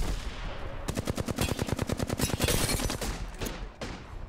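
Rapid automatic gunfire from a video game weapon, a fast string of loud, evenly spaced shots that runs for about two seconds, then trails off into a few scattered bursts.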